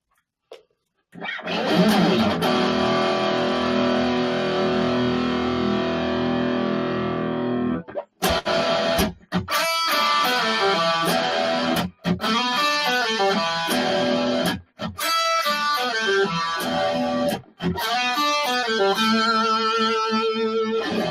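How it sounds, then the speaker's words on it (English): Heavy distorted electric guitar rings out a sustained power chord, then plays choppy chords and lead licks with brief pauses between phrases, loud and up close. "We're going to be playing a little bit of lead stuff"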